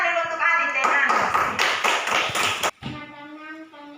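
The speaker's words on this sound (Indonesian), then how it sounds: "Tepuk tangan dulu untuk Adit dan Anas." Schoolchildren in a classroom clap for two classmates about to present, a loud, close burst of many hands clapping for about two and a half seconds before cutting off into a voice.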